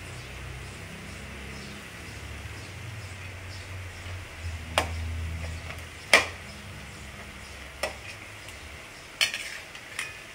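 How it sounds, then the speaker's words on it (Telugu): Pakodis frying in hot oil, turned on both sides, give a soft steady sizzle with several sharp clinks of a utensil against the pan scattered through, fairly faint and with no voice over it. "మంచి ఇటు రెండు వైపులా మరలేసుకుంటూ మంచిగా వేయించుకోవాలి."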